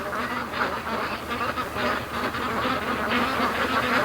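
Many ducks quack together in a dense, continuous chorus as they swim home through a swamp, a close, buzzing mass of overlapping calls with no pauses and no one talking.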